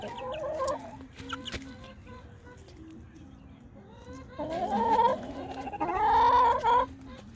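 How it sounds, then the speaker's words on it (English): A backyard flock of chickens clucks and calls as older birds greet newly introduced ones, with a series of rising, squawking vocalisations close by that grow louder toward the end, alongside soft background murmuring. "the older birds are coming to check them out"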